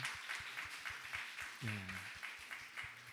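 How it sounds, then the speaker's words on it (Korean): Church congregation clapping in applause during a worship service, a steady run of claps heard close with a low hum and a brief voice in the middle. "우리 한번 일어나서 우리 박수로 너무 감사하다고"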